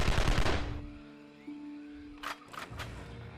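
Rubber bullets fired in the Evil Genius video game: a loud dense burst of rapid gunfire up front, then a few sharp separate cracks further along over a low background hum.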